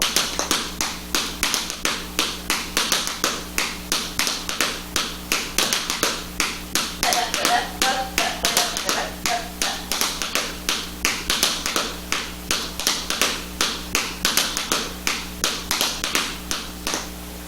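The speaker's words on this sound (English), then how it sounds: "Here's military time step." Crisp tap shoe strikes ring out in a military time step, a steady, repeating rhythmic pattern, close and dry, continuing for the whole stretch without talk.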